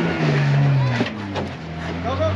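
A Jeep engine revs hard on a rocky off-road trail, a close, loud rising and falling throttle roar over a couple of seconds, with people talking over it.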